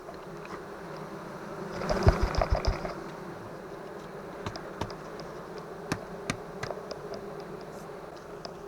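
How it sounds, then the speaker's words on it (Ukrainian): Honey bees hum in a dense, steady buzz while being shaken off hive frames, with a louder burst of knocks and thuds partway through and scattered sharp clicks and taps afterwards, no talking. "струшую зараз бджілок і йду відкачувати"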